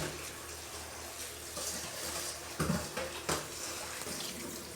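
Water drains and splashes out of a pot of cooked rice, a steady close-up gush with a few louder sloshes partway through.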